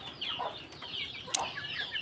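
A farm chicken with plucked, damaged neck skin, kept apart from the flock, makes soft clucks close by, with faint chirps and cackles over a quiet background.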